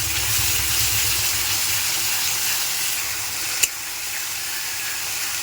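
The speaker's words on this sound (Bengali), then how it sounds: "জল দিয়ে আমি একটু কষিয়ে নিচ্ছি।" Spice paste of chili, coriander, cumin and turmeric sautés with water in a pan, giving a steady broad sizzle and hiss with a single sharp clink partway through.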